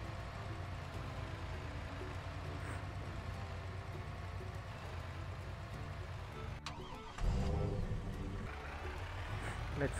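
Fire truck engine driving in Farming Simulator 22, a steady low rumble throughout that swells louder near the end, with a brief hiss like an air brake, and no talk over it.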